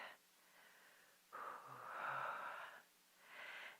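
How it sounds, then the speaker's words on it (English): Slow, deep breaths during a guided meditation, a long airy inhale rising and swelling, then a softer breath following, close and intimate in a quiet room with no talking. "take a deep breath"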